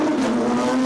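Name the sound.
Porsche race cars revving high on the track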